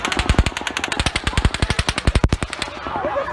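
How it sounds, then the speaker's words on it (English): Rapid gunfire rings out at an outdoor concert, a long fast string of sharp cracking shots with a brief pause partway through, loud and echoing, ending in trailing reverberation. "Shots fired at the concert."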